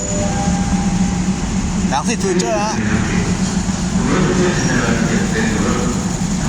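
Thai ordinary train number 210 pulls into Rangsit station with a loud continuous rumble, brief squeals and clatter near the start, while someone talks over the noise.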